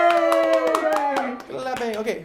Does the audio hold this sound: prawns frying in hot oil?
no